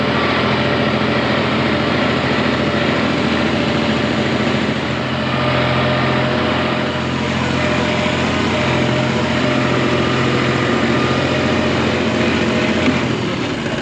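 A tractor engine runs in snow, a loud, steady drone with a constant low hum that holds unbroken for about fourteen seconds, with no one talking over it.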